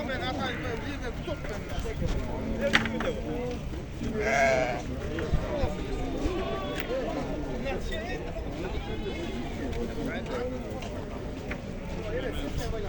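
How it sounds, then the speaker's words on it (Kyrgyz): Ten- to eleven-month-old lambs offered for sale bleat repeatedly, close by and moderately loud, under continuous conversation among people at the sale. "10-11 айлык козулар экен."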